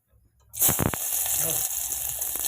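Sliced onion hits hot oil in a pan for a spicy chicken dish, bursting into a loud, steady sizzle that hisses on close by after a brief quiet start.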